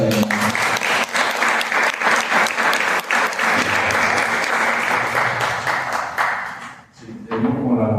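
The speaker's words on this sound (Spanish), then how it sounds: "Pues un fuerte aplauso para darle la bienvenida." An audience at an evening conference on José María Peón Losa's 1882 trip to Europe claps loudly to welcome the speakers, dense sustained applause for several seconds that dips briefly, with a voice beginning to speak at the end.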